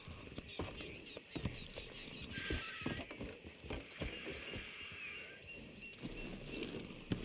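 Hooves of a horse in Red Dead Redemption 2 clip-clop at a steady pace under faint ambient noise, with occasional sharper knocks and a soft snort, fairly close by.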